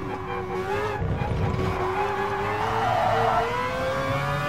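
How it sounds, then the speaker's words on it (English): Mazda RX-Vision GT3 Concept race car in Gran Turismo, its engine droning steadily at high revs with rising pitch sweeps, alongside tire squeal, loud and continuous throughout. "So far, my favorite thing about this car is the engine noise."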